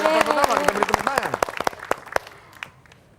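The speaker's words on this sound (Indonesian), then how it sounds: "kita beri tepuk tangan" A burst of clapping from a small group at a word-guessing game show, loud at first and then thinning out to a few scattered claps, with a voice over the start.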